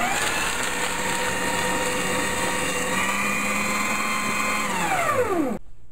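A motorized paper shredder whirs loudly and steadily for several seconds, then winds down with a falling pitch and cuts off.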